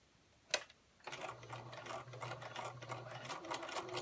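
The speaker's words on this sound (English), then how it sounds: "we are going to be sewing diagonally from corner to corner." A sewing machine stitches diagonally from corner to corner across a baby crib quilt. A single sharp click comes first, then a steady mechanical whir with a fast rhythmic clatter, close and fairly quiet.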